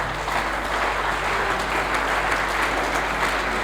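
Congregation at a French-language church service breaking into steady, sustained applause, a dense wash of clapping filling the room without pause.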